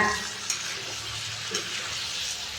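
Chicken curry with potatoes stir-fried in oil, a continuous close sizzle with a couple of soft scraping stirs, no voices.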